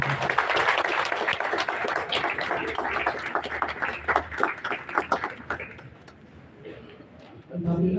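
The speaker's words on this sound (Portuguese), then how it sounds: "Uma salva de palmas para" An audience at an embassy inauguration ceremony claps steadily and densely for several seconds, tapering off with chatter around it, before a voice resumes at the end.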